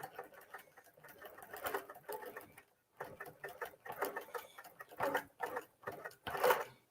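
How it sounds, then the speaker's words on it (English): A sewing machine stitches down a quilt flower, a steady mechanical patter of rapid needle strokes in several runs, stopping briefly and starting again, near and moderately loud. "So I just want to sew down here so that I get the look of my flower."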